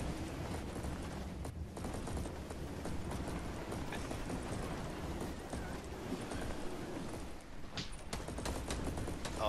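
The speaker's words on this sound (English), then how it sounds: "Oh, somebody's shooting again." Bursts of rapid gunfire in the Fortnite video game, rattling in quick repeated volleys at a moderate distance, fairly faint and continuous across the stretch.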